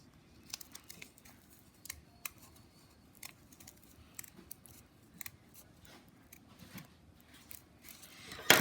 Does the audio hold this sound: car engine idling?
no